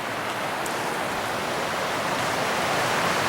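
A river at the Big East Fork trailhead rushes steadily, a dense broadband wash of flowing water heard close and loud, unbroken and without voices.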